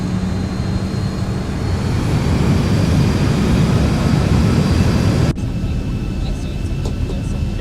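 Steady jet engine roar of a Boeing 737 in a flight simulator, loud and continuous, then cutting abruptly to a quieter cabin hum with faint clicks near the end.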